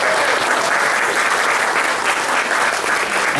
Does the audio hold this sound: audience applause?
yes